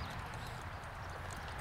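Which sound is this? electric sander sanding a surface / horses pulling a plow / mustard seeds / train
horses pulling a plow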